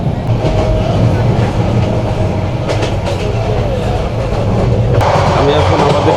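Inside the Subarna Express travelling from Chittagong to Dhaka, a steady loud rumble of running carriages carries on throughout, with faint clattering and a brief sharp squeal near the end.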